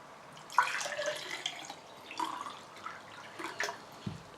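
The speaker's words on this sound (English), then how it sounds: "So you get your filtered water." Filtered water from a portable reverse osmosis purifier trickles into a clean glass in short, uneven splashes and drips, fairly quiet and close, with a brief low knock at the end.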